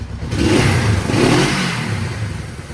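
A Honda CB350 twin motorcycle engine cranks and revs up, a loud close rumbling drone that rises in two surges before settling, with no talk.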